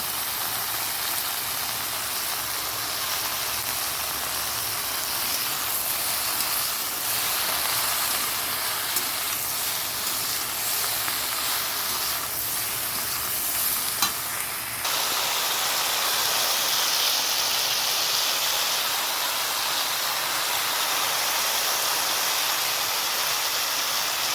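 Spices with turmeric and green chili sizzle in hot oil, a steady bright hiss that continues for the whole stretch and grows slightly louder and brighter partway through.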